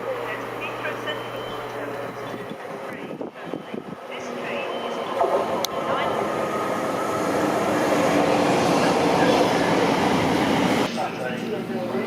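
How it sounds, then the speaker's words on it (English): A Heathrow service train rumbles into a station and draws closer, its broadband roar swelling steadily over several seconds, with a brief high squeal partway through. "This approaching train, this is a Heathrow service."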